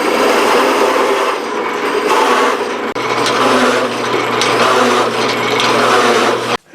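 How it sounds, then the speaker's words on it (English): A power drill boring out a steel nut: a loud, continuous grinding whine that briefly dips and then steadies into a droning hum before cutting off abruptly at the end. "I'm just gonna drill this out and try it."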